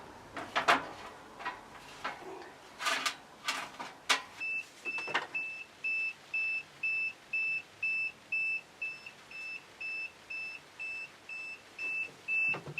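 A few clunks and rattles give way to a steady series of short, high electronic beeps from a guitar side bender, repeating at an even pace, fairly close.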